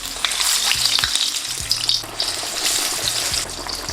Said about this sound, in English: Now take your hash browns out of the freezer and slowly add them in